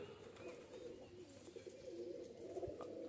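Pigeons on a farm, with a soft steady coo and low murmur from many birds and faint flutters, the sound moderately close and fairly even throughout.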